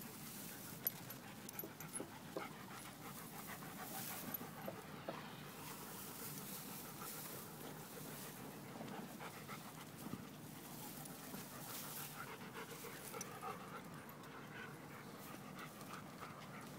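A neighbor's dog in a vacant lot in Nuevo Laredo, Tamaulipas, pants steadily and rhythmically, faint and fairly close, with no talk over it.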